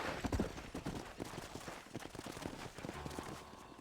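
Horse hooves clip-clop in Red Dead Redemption on PS5, a quick run of close, uneven knocking steps against faint background game noise.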